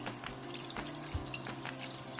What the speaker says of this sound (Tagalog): Linisin natin ito sa asin. At hugasang mabuti.